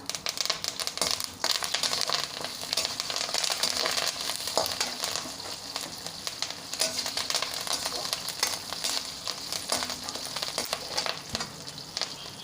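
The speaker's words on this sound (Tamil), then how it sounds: "கொஞ்சம் கருவேப்பிலை போட்டுக்கலாமா." Curry leaves hiss and crackle as they sizzle steadily in hot oil while coconut rice is cooked. The frying sound is loud and close and runs continuously with scattered popping.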